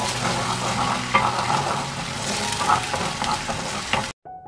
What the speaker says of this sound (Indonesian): Kemudian, aduk-aduk kembali hingga semuanya tercampur merata.